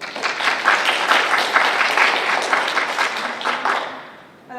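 An audience applauds a woman introduced at a general assembly on women's place, with dense, steady clapping close in that fades toward the end.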